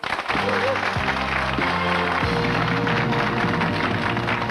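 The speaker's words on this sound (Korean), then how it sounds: "8분에게도 여러분 격려 박수 보내주십시오." Studio audience applause on a Korean quiz show, a dense steady wash of clapping that runs under a loud stepped musical jingle throughout.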